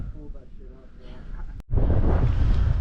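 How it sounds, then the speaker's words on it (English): Low rumbling wind in the Scottish mountains near Braeriach during a mountain bike ride, with a speaking voice, then a sudden heavy gust of wind buffeting the microphone loudly. "as you can probably hear, it's got rather windy"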